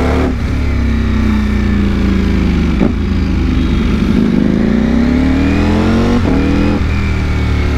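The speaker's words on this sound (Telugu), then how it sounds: "ఇప్పుడు మనం డ్రైవ్ చేసే బైక్ వచ్చేసి డుకాటి V4S." Ducati V4S motorcycle engine running loud and close, revving in rising and falling sweeps with a steady throaty drone throughout, no voices.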